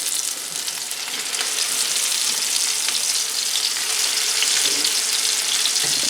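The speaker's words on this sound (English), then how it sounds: "Sizzle." Greek lamb burgers frying in a pot over medium-high heat give off a loud, continuous, crackling sizzle with fine spattering that swells slightly as it goes on, no talking.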